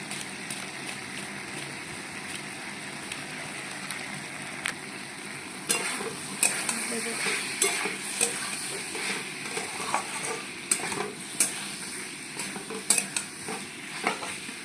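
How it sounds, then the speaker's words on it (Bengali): Potatoes fry in spiced oil with turmeric, cumin and coriander powder for a potato-soybean curry. A soft, continuous sizzle runs beneath, and a spatula strikes the pan in irregular sharp clicks that grow busier in the second half. "আলুটা আমার কষানো হয়ে আসছে"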